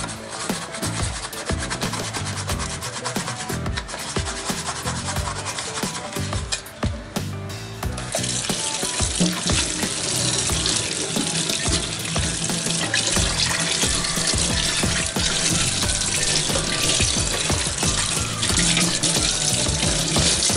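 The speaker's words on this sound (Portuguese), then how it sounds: "Sabonete, um pouquinho de bucha, só esfregar, só fica limpinho" A greasy cooking pan is scrubbed with soap and a sponge under running tap water: continuous close rubbing and rasping strokes over a steady splash of water, growing louder and denser partway through.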